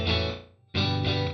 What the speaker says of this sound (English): That's a short delay.